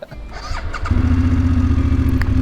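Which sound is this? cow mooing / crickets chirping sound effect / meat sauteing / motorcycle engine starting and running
motorcycle engine starting and running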